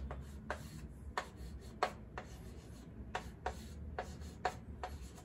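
A pen writing out the letters PEMDAS by hand for an SAT maths problem, a series of short scratchy strokes at a steady pace, close but faint, no voice over it.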